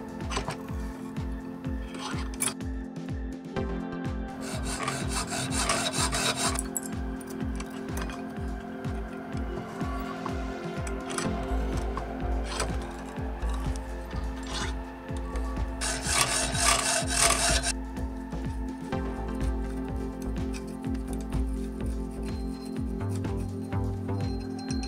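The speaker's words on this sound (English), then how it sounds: "starting off with the usual of cutting the sprues and then polishing to make it shiny" Rhythmic rasping and scraping strokes of a tool cutting sprues off and polishing a lost-wax cast metal starfish, repeated close-up rubbing with bursts of bright hissing grinding, steady throughout and without talk.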